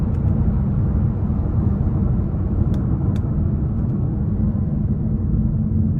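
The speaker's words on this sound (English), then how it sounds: "Gonna do some downshifts here." A 2021 Mazda 6 Carbon Edition on a test drive, heard as a continuous loud engine and road drone from inside the car with no distinct rev blips standing out and no talking.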